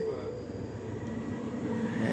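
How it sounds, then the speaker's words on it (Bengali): A Riyadh metro train rolls and turns on its track, heard from inside the near-empty car as a steady low rumble with faint high squealing tones from the wheels. "ট্রেনটা কিন্তু এখন ঘুরতেছে সাউন্ড হচ্ছে"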